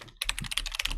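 Quick bursts of keystrokes on a computer keyboard, about a dozen close, crisp clicks in a fast, uneven rhythm with no voice over them.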